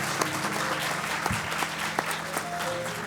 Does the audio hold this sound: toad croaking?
no